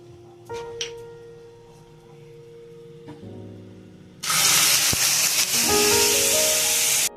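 Water poured into hot caramelized sugar for a bread pudding syrup erupts into a loud, sustained steam hiss and sizzle, following a quieter stretch of faint kitchen clatter.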